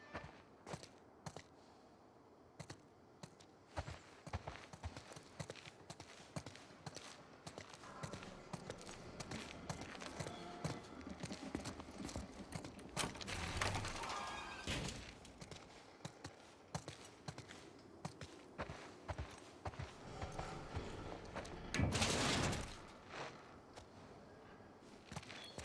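Horse hooves clip-clop in The Last of Us Part II, a steady, busy run of close, crisp steps across the whole stretch, with brief louder bursts of noise partway through.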